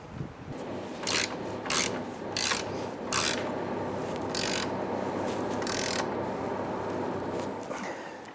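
A control arm bolt on a 2005-2010 Chrysler 300 is tightened with a ratchet, giving repeated raspy clicking strokes in short bursts over a steady close-up scraping texture.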